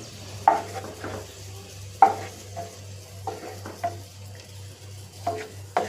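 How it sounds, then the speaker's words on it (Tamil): Raisins fry in oil until they puff up plump. There is a low, continuous sizzle and hum, with a utensil periodically scraping and knocking against the pan. "நல்லா குண்டு குண்டாக நல்லா பொரிஞ்சு வந்துருச்சு"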